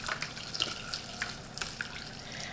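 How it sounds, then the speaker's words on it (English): Masala chai is strained and poured, a quiet, steady trickle of liquid with small splashes and drips, soft and close in an otherwise calm room. "I am going to try to strain this without making a mess"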